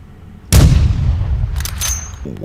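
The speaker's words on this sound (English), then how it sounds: "Call of Duty firing range, 50 meters." A single sharp, loud gunshot rings out at the 50-meter Call of Duty firing range in the video game, then its echo decays for about two seconds before a faint voice begins.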